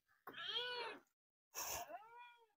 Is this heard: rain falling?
no